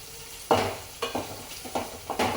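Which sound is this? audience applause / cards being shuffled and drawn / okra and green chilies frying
okra and green chilies frying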